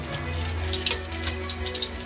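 Spaghetti deep frying in hot oil gives off a steady low bubbling sizzle, with scattered crisp pops and crackles layered over it, close by and with no voices.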